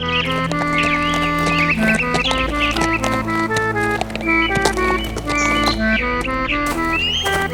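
Horse hooves clip-clop steadily under continuous music, the footfalls blended into a busy orchestral backing rather than standing alone.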